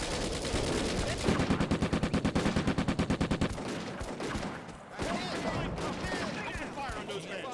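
Rapid machine-gun bursts rattle in a tight rhythmic string in the Combat Mission: Afrika Korps war game, followed by scattered rifle shots and louder distant cracks, with a voice talking over the combat.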